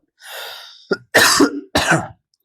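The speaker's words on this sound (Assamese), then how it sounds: "কাহ অলপ উঠি আছে" A few harsh coughs and throat-clearing bursts, close and fairly loud, with short pauses between them and no talking.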